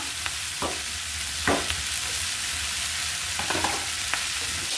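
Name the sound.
bitter eggplant frying in pan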